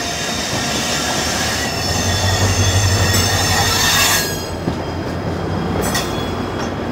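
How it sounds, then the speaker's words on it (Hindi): A Mysuru–Udaipur Palace Queen Humsafar Express rolls past close by, a steady loud roar of railcars with squealing wheels and a low rumble swelling midway, then easing off. "इधर कोई हम सफर एक्सप्रेस आ रही है"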